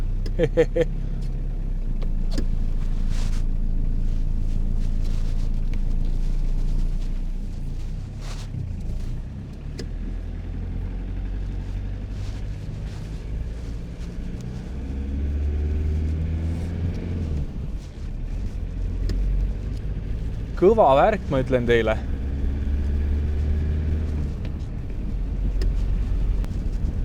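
A 1988 Audi 80 with a freshly repaired clutch master cylinder drives along, its engine rumbling steadily from inside the cabin with road and wind noise, while someone talks over it throughout.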